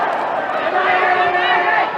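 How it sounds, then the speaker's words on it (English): A crowd roaring at a Muay Thai fight, a loud sustained wash of cheering and shouting from many people that rises slightly and holds steady throughout. "And you hear the crowd roaring with excitement."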